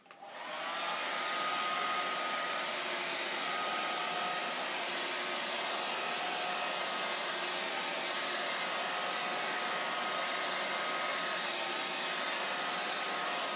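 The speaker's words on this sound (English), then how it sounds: "I'm going to blow dry this." A handheld hair dryer blows steadily for over ten seconds, a loud, even whoosh that starts abruptly and holds constant with no speech.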